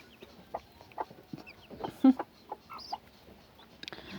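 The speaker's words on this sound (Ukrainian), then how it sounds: "Ну і отакі курі теж хорошенькі." Bantam hens cluck softly nearby in short scattered bursts, with a few louder calls among quieter background noise.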